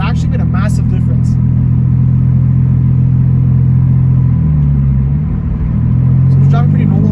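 A BMW E46 with a custom catless Greddy Y-pipe, resonator and single-exit blast pipe drives at normal speed, its exhaust giving a loud, steady low drone that dips and rises slightly. A voice is heard briefly.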